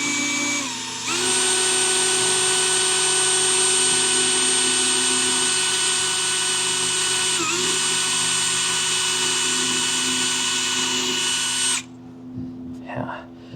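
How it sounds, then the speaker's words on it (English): Power drill boring out a hole while fitting a trolling motor battery cutoff switch: a loud, steady high whine running continuously for about eleven seconds, then abruptly cutting off. "I'll use my other drill and finish drilling the hole out."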